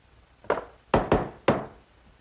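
A hammer drives 4-penny finish nails up from below into a 3/4-inch plywood shelf, four sharp, close, solid knocks with short gaps between them.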